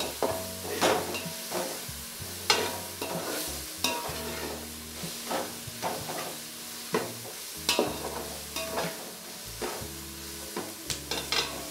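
Garlic, onion and green chili sizzle and fry in a pan, with repeated scraping stir strokes at an irregular rhythm through a steady close hiss, no voices.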